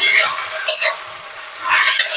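Bottle gourd leaves fry lightly in a pan and are stirred, with a soft sizzle and scraping of the spoon against the metal in a few short bursts, close and fairly loud.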